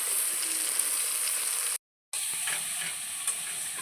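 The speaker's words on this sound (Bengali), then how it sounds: "মশলাটা এদিকে আমি ভালোভাবে কষিয়ে নিচ্ছি।" Spice masala with ginger garlic paste fries in a pan for a Bengali banana-flower curry, giving a steady close sizzle with light stirring scrapes and one brief cut to silence.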